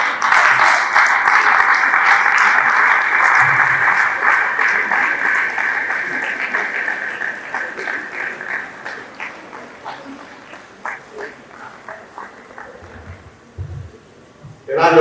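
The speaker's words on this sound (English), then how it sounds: "A round of applause." Audience applause after a faculty guest lecture on educational design and management, a dense loud wash of clapping that gradually thins and fades into scattered claps near the end.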